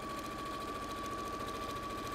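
Sewing machine stitching fabric strips together, a rapid, even mechanical chatter with a steady whirring hum, close and continuous.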